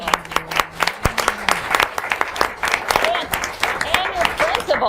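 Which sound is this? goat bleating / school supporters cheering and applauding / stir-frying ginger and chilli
school supporters cheering and applauding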